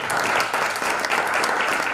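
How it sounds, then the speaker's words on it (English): An audience applauds a business leader at an awards felicitation event, with dense, steady clapping that is loud and close throughout and no speech over it. "Ladies and gentlemen, a round of applause, Mr. Priyan Fernando."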